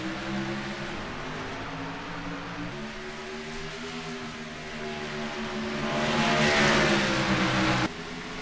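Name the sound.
race cars accelerating at green-flag restart, racing video game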